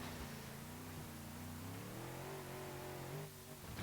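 A car engine in BeamNG.drive holds a steady mid-pitched drone, climbing slowly in pitch and then dropping off briefly near the end. The sound is faint and there is no talking.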